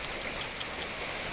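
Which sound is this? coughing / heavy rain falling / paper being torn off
heavy rain falling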